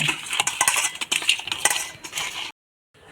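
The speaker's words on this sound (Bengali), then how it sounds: "মাছের উপর লবণ হলুদ দিয়েছি এখন ভালো করে মেখে নিব" Close clinking and scraping of metal against a dish as fish is mixed by hand with salt and turmeric, busy and continuous, then abruptly silent.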